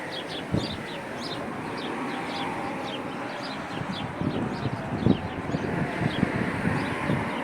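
Chickens cluck and fowl calls come amid a dense, noisy outdoor background in Jerusalem, with scattered sharp knocks and bumps and a few calls rising above the steady din.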